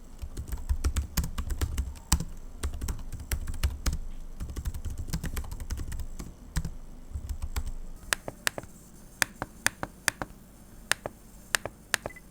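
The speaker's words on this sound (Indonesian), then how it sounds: "Suara ketikannya tergolong senyap dan harusnya aman lah ya kalau kita pakai ngetik di perpustakaan kampus" Typing on the keyboard of an Axioo Hype AMD X1 laptop, rapid soft key taps in a dense flurry for several seconds, then slower scattered sharper clicks, close and fairly quiet with no talking.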